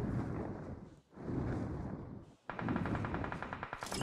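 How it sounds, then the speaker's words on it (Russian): Players trading gunfire in PUBG Mobile: sustained muffled shooting that briefly cuts out twice, then resumes as a sharper, rapid automatic burst with crisp repeated reports. "вот они стреляются между собой"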